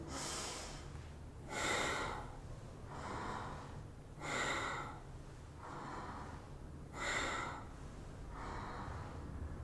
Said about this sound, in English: connect the movement to the breath. So inhale and exhale